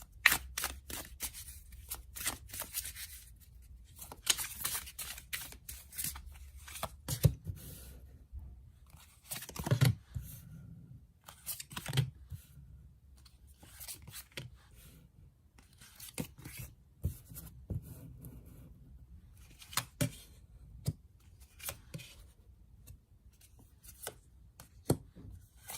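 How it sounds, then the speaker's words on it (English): Tarot cards are shuffled close up in a quiet room, with repeated soft riffling snaps, flicks and rustles in irregular bursts. "let's shuffle some cards and gauge this energy for air signs"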